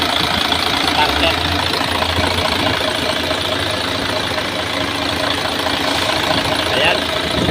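Mercedes-Benz MP4 V6 engine freshly overhauled in a workshop, running at a loud, steady idle with a constant rumbling drone and faint knock, a voice talking briefly over it.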